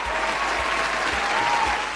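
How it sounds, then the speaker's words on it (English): A round of applause from an audience, a dense, even wash of clapping lasting about two seconds, fairly loud and steady. "Give me a round of applause."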